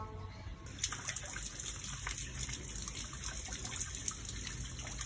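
Tap water running steadily while a cempedak fruit is washed by hand, a continuous splashing trickle with small irregular splats, close and moderately loud.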